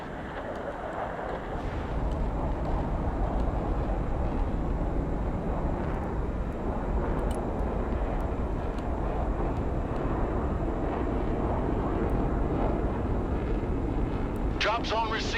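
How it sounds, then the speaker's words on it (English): A cargo plane in the video game Broken Arrow flies overhead with a loud, steady engine roar that swells in after a second and holds constant to the end. "Cargo plane ready."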